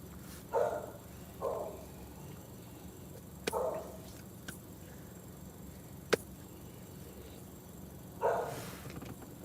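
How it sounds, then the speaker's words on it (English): A dog barking outdoors, heard as four short separate barks spaced a few seconds apart, moderately distant, over a steady low background hum with a few sharp clicks between them. "the dog outside, he barking"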